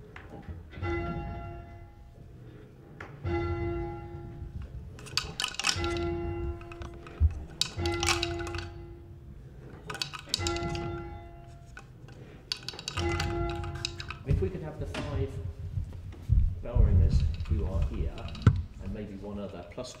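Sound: church tower bell swung full circle, clapper striking

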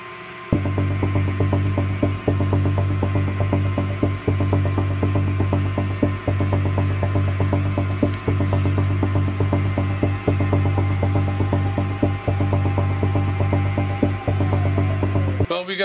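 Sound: lathe facing the end of aluminum piston stock

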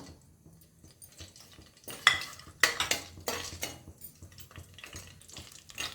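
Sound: biryani spices added to ghee and stirred

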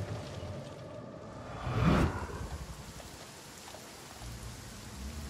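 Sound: rain falling, from video game Banishers: Ghosts of New Eden

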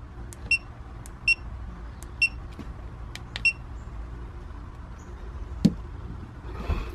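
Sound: GoPro camera beeping as Wi-Fi is turned on

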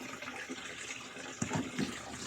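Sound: washing machine draining water

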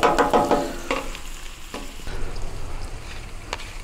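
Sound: onions sizzling on a Pit Boss griddle

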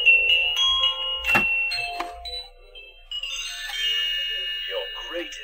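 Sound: animated eyeball doorbell being pushed

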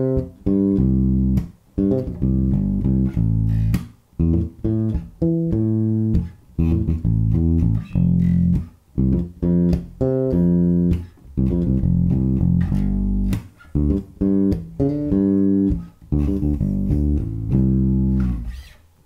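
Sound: bass guitar 16th-note lick moving across strings

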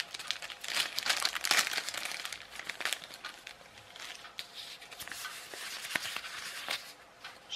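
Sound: crumpling paper wrapped around an electronic kit circuit board

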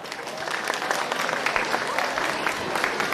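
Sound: audience applause for a ballroom dance club

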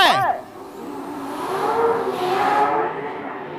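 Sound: race car wheelspin launching in first gear

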